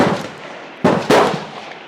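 A Swiss Martini Jagdstutzer rifle fires on a 300 m range: a loud, sharp crack lands abruptly, then a second burst follows a moment later, both trailing off into a rolling echo over steady outdoor background noise.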